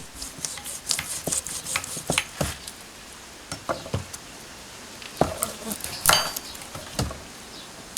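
A kitchen knife chops through fish being cut into rounds for a fish curry: irregular sharp knocks against a board, mixed with clinks of utensils and a soft background sizzle.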